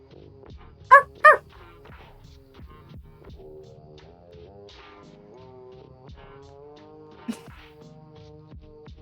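A human voice imitates a dog with two short, loud barks close together near the start, followed by a quiet hum and soft murmuring.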